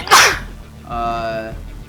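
A single sharp, close sneeze bursts out at the start, followed by a short voiced sound and quiet room tone.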